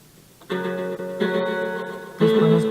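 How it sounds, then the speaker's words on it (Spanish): Demonstration of a reverb effect built in Simulink: sustained tonal notes enter in three stepped stages, each ringing on smoothly with a lingering wash instead of distinct echoes, loud and clear with no talking. "Reverb o reverberación múltiple es una reflexión sin llegar a ser un eco."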